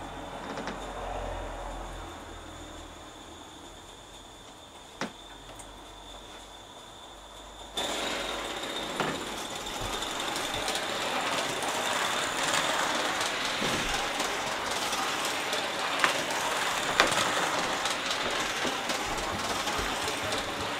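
An Aster Gauge 1 live steam locomotive modelled on the Titfield Thunderbolt running fast, a steady hissing rush with faint rhythmic clicking that grows louder partway through and continues without letup.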